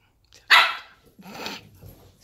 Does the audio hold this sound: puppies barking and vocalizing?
yes